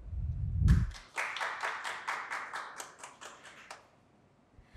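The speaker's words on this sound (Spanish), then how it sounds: "por quien pido un aplauso" Applause at an academic marketing conference for a social sciences dean: a brief burst of hand clapping from a small audience, starting after a low thump, fairly sparse and fading out within a few seconds.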